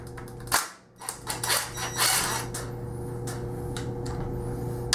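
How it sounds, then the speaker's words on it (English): Socket ratchet clicking repeatedly as it loosens the top cap nut on a 2001 KTM 250 two-stroke motorcycle, a close, busy mechanical ratcheting that runs steadily through the whole stretch with a background hum. "I think we take this top cap nut off."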